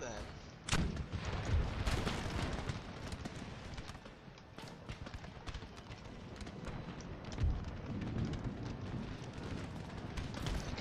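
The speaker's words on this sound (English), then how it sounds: "I'm gonna fire at them." Musket volleys and artillery booms sound across a battle in Empire: Total War with DarthMod, as repeated sharp cracks and rumbling blasts rise over a dense, noisy battlefield din.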